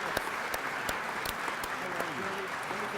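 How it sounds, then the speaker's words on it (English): Guests at a luncheon marking the 100th anniversary of Albanian independence in Washington applaud steadily, a full continuous wash of clapping with a few louder near claps and some voices mixed in. "praise and applause."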